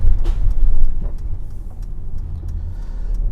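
An Auto-Sleepers Malvern motorhome rolling along the road fills the cab with a loud, steady low rumble of engine and tyres, heard from inside over a few seconds with no talking.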